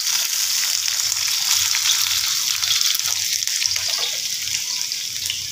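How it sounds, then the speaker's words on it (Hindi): Onions fry in half a cup of hot oil in a kadhai for chana dal pulao, giving a loud, dense, unbroken sizzle with a bright crackling hiss and faint low clatter underneath, and nobody speaking. "ये कढ़ाई में मैंने आयल डाली है, 1/2 कप आयल डाली है। अब इसमें जा रहे हैं अनियंस।"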